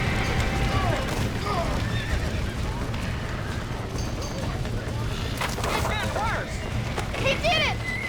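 Horses neigh and whinny repeatedly in a Red Dead Redemption game scene, several high whinnies rising over clip-clopping hooves and a busy, loud background, with raised voices.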